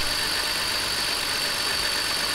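BMW E60 530i engine idling roughly with a misfire, a steady close mechanical drone and hiss with no talk over it.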